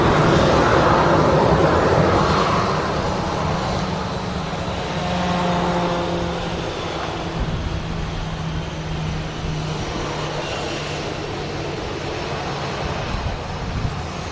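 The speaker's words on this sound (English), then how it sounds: "now just taxiing into Terminal 3 here at Manchester" Airliner taxiing toward Terminal 3 at Manchester Airport in the evening, a steady broad jet engine rumble and roar with a droning low hum, fairly loud and continuous with no voices.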